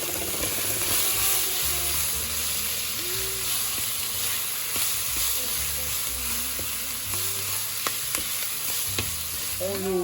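Ingredients for chicken basquaise sauté in a pot, a dense continuous sizzle with occasional stirring clicks and scrapes, close and loud throughout.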